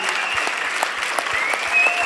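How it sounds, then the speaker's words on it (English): Audience applause for speakers at a corporate event, continuous crowd clapping at a steady moderate level with faint voices mixed in. "Can we give a big round of applause to all of our speakers today?"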